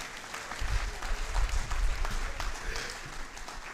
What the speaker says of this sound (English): I thought you would clap for me